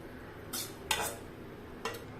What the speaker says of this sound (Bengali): তো এবার মাটনটা প্রেসার কুকারে দিয়ে দিচ্ছি